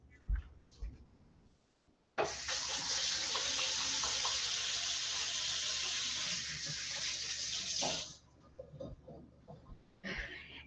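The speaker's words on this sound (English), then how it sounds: "I'll just wash my hands" Kitchen tap running as hands are washed after cooking bacon, a loud steady gush of water starting abruptly, pouring for about six seconds, then cutting off, with a brief splash returning at the end.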